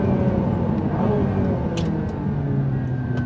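Aston Martin Valhalla hypercar on the move: a loud, steady engine rumble and road roar heard from close by, continuous throughout with faint higher ticks on top.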